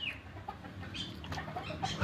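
A rooster gives a few faint, short clucks at close range against a quiet background. No one speaks.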